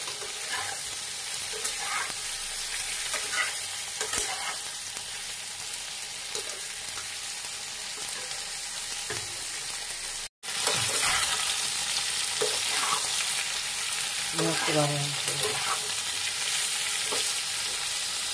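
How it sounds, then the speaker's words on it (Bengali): Brinjal pieces fry in oil with a continuous hissing sizzle, broken by occasional stirring scrapes and a brief cut-out midway, then the sizzle resumes. "বেগুনগুলো একটু ভাজতে দেব এর মধ্যে।"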